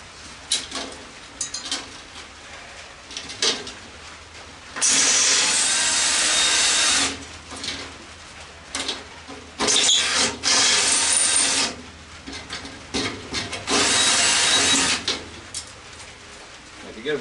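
A power drill bites through aluminum rivets on a scrapped TV antenna in repeated loud, harsh grinding bursts of a few seconds each, separated by quieter handling noises.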